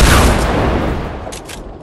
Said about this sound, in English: Oh, they're shooting rockets at us.